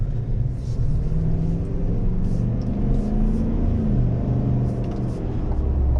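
A 2024 GMC Sierra AT4X AEV pickup with an automatic transmission drives along, a steady loud engine and road rumble from inside the cab with no talking.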